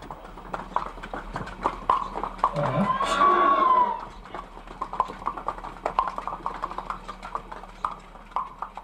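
Steady clip-clop of horse and mule hooves at a busy livestock market in Weishan Township, over murmuring voices, with a brief louder animal call rising in the middle.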